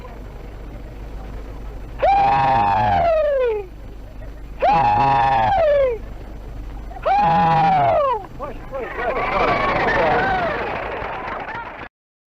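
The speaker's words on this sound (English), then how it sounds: "now you've heard the actual rebel yell, which was sounded on the hills of Kentucky and Virginia and Tennessee and Georgia and the Carolinas" A recording of the Confederate rebel yell: three loud, high, wavering whooping cries in turn, then a rough burst of many voices yelling together before it cuts off.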